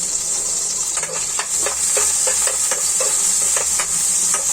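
Vegetables frying in a pan with a steady high hiss of sizzling, while a utensil scrapes and stirs in a regular rhythm of short strokes, close and fairly loud, with no voices.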